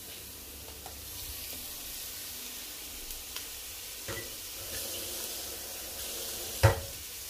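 Smoked pork sizzles steadily in a pan with garlic, a constant close frying hiss running throughout, with a brief sharp flare near the end as a little water is added.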